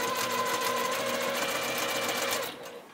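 Sewing machine chain piecing quilt fabric, a fast steady close whir of stitching that runs for a couple of seconds and then winds down to a stop.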